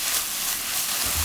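Spam stir-fried over high heat with a little ginger syrup, giving a loud, steady, close sizzling hiss that holds without a break.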